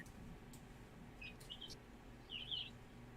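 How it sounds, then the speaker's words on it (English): Young three-week-old chicks give a few faint high chirps in the background over a steady low outdoor rumble by a cabin in the woods, with no talking. "They're my little Christmas chicks."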